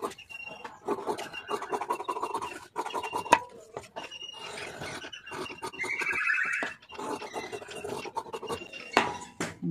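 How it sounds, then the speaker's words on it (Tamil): Scissors snipping through blouse fabric in a tailoring workspace, close, uneven bursts of scratchy cutting and rubbing with brief pauses between strokes. "இப்போ அவ்வளோதான் பிளவுஸ் கட் பண்ணுறது."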